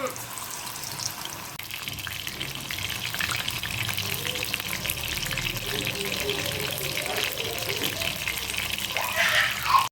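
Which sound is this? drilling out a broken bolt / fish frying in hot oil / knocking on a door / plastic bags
fish frying in hot oil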